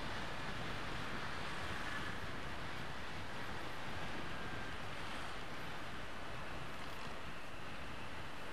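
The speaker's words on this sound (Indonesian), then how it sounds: "Anginnya kencang banget angin." Strong wind roaring over a motorcycle rider on a daytime ride across a city flyover, a steady loud broadband rush filling the whole stretch with no pauses.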